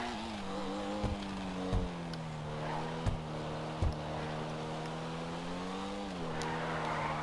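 Pfister Comet SR sports car driven in Grand Theft Auto 5, a steady engine drone with a shifting pitch and several short thumps and bumps, loud and continuous with no talk.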